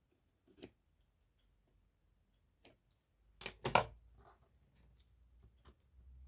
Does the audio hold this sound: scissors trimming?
yes